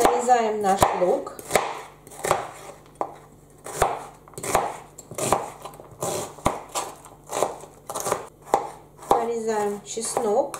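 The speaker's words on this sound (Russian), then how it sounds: "Крупно нарезаем наш лук." A knife coarsely chops onion on a cutting board while vegetables are prepared for a carrot and parsnip soup, giving a steady run of sharp, close knocks at an uneven rhythm with a few quieter scrapes between them.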